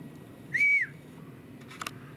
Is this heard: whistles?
yes